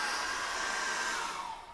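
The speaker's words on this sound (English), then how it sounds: "So what I'm going to do now is dry that with a hairdryer" A hair dryer blows with a steady, loud whooshing roar close by, drying acrylic paint on a seascape painting, easing off slightly near the end.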